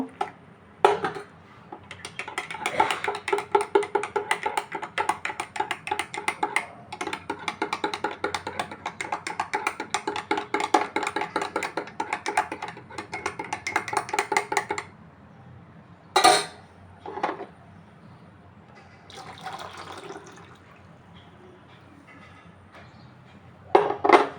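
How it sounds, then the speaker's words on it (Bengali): A spoon stirs powdered milk into tea in a cup, giving a fast run of light metallic clinks and scrapes for about fourteen seconds, followed by a few separate taps against the cup. "এবার দুধ গুঁড়ো দুধ গুলিয়ে মিলিয়ে নেব"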